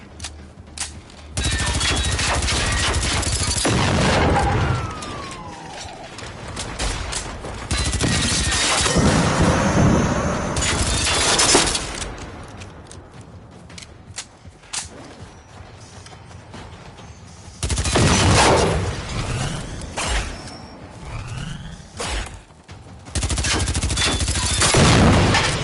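Submachine gun fire in Generation Zero comes in loud, rapid bursts over about 25 seconds, with short pauses between volleys and no voices.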